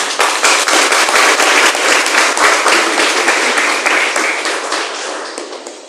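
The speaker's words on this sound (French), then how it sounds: "Allons applaudir cet esprit." Dense, loud applause from a church congregation fills the whole stretch, a steady wash of many clapping hands with sharp crackling hits throughout, tapering slightly at the end.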